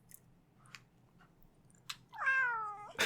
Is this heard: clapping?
no